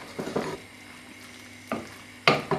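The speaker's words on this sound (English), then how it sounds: "And then just mix the gnocchi in with the vegetables and cheese." Gnocchi being stirred with vegetables and cheese in a pot, producing a few scattered scraping, clinking strokes against the pot amid quiet kitchen stillness, with the last one sharper and louder.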